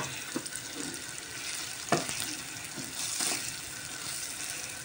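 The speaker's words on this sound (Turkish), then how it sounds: "Öyle güzelce kavuruyoruz." Chicken seasoned with salt sautéing in a pan, a steady sizzle and frying hiss broken by a few sharp scraping stirs, close and moderately loud.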